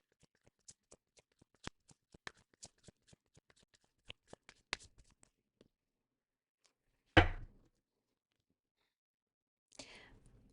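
Tarot cards being shuffled by hand, a rapid series of soft, crisp flicks and taps, followed by two louder thumps of cards dropping or spilling, all faint and close.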